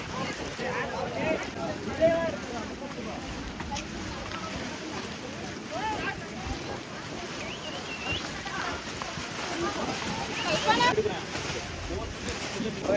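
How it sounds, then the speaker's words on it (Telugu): Cold wind roaring past a helmeted rider on an Activa scooter climbing toward Mullayanagiri peak in Karnataka, a steady rushing buffet of wind noise throughout, with faint voice fragments mixed in. "అమ్మ చలి గాలి చంపేస్తుంది."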